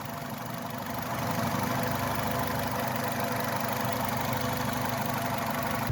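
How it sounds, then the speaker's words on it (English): A 2011 Nissan Rogue engine idles steadily with the hood open, a close, even mechanical hum and light ticking that holds constant throughout. "Okay, with the motor running,"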